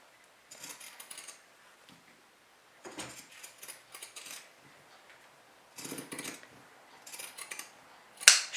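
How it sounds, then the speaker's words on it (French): Pinking shears snipping away excess fabric while sewing a small makeup pouch, heard as several separate bursts of close crisp cutting strokes with quiet gaps between them and a sharper snip at the end. "à l'aide de mes ciseaux cranteurs, je vais enlever tout le surplus de tissu"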